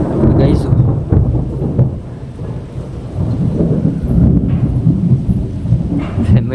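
Deep, loud thunder from a lightning strike rolls on continuously through a night storm, mixed with steady rain and gusting wind close by.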